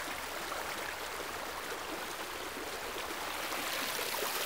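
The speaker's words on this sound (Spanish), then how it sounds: "Miren la cascada, el río." A waterfall and river on the Lonia in Galicia give a steady, full rushing roar that stays even throughout, with no one talking.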